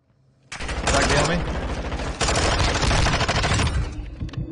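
Sustained automatic gunfire in Warzone 2 during a 3v3 wager match, a close, loud, continuous rattle of rapid shots that starts abruptly after a brief quiet and runs almost unbroken to the end.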